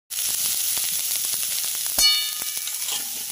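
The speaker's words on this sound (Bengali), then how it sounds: "ভালোভাবে ভেজে নেবো বেগুনটা" Brinjal pieces with salt and turmeric fry in hot oil in a pan, giving a loud, steady sizzle throughout. A sharp burst of spitting and crackling flares up partway through, then settles back into the constant hiss.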